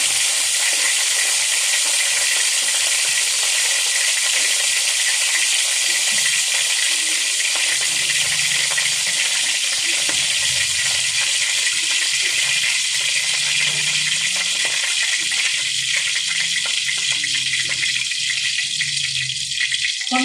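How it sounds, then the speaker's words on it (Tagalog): Cooking oil mixed with a little water sizzles in a pan before a sauté of chayote and beans. It makes a steady, close, bright hiss that runs the whole time with no talking. "So kapag mawala na po yung tunog mga kaguro, mainit na po yung mantika."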